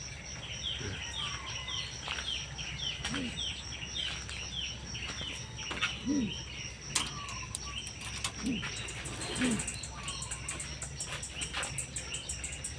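Pigeons inside a freshly cleaned loft, just fed and wet from rain, giving soft low coos at intervals among steady chirps and insect buzz, faint and spread through the space.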